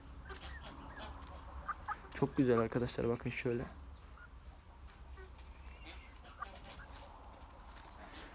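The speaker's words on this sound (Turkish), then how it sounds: "Köy tavuklar da bana geliyor yem verecek diye." Village chickens cluck in a short burst of rapid, close clucks over outdoor background noise, while someone talks before and after.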